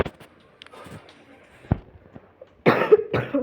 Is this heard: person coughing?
yes